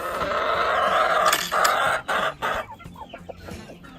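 Chickens clucking at close range in a homestead setting, a busy cluster of overlapping clucks and squawks that thins into scattered calls.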